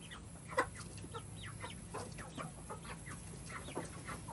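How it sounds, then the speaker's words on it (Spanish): Chickens and roosters cluck in a farmyard, with soft, scattered calls at a moderate distance over steady low background noise. "¡Ay, qué malos gallos!"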